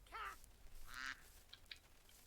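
A duck from a modded Minecraft game quacks twice, nasal and close, with a short pause between calls. Faint small clicks and ambient game sounds follow quietly afterward.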